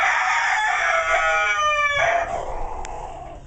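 A rooster crows one loud, close cock-a-doodle-doo inside a chicken house, its drawn-out call lasting about two seconds before trailing off into a quiet room with a faint click.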